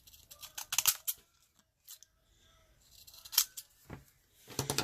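Sharp snipping cuts come in quick bursts with pauses between, close and fairly crisp, like scissors slicing through paper.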